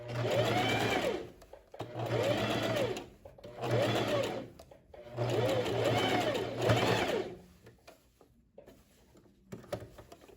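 A sewing machine topstitches the lining side of a lined tailored vest in four runs of steady whirring, each a second or two long with short pauses between, then quieter handling at the end.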